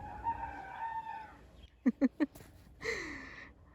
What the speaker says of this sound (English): He's the only rooster we have that sounds like he's saying cock-a-doodle-doo.